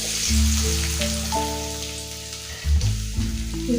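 Sliced onion frying in hot oil in a kadai gives a steady sizzle that runs throughout, overlaid with loud sustained musical tones and no speech.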